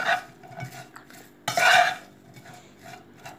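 Anchovies being mixed by hand with salt and spices in a bowl, for a simple nethili fry: scraping, rubbing stirring sounds in bursts, with a louder spell in the middle, close and alone.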